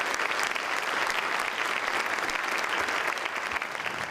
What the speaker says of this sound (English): Let's give them a round of applause for the service they give to Canyons.